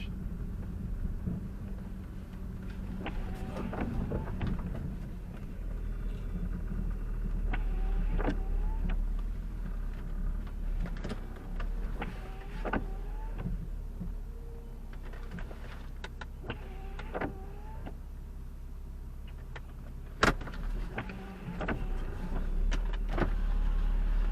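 A car drives slowly around a residential neighbourhood, its engine a low steady rumble inside the cabin, with occasional creaks, clicks and faint passing noises and no voices.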